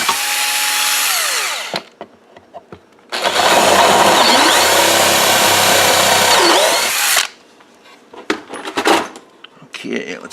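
A power drill boring a hole sized for a 5/16 bolt, in two loud bursts with a pause between them and clattering handling noises after.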